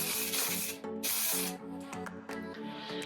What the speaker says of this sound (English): So I just sprayed a little bit of some spray wax through the hair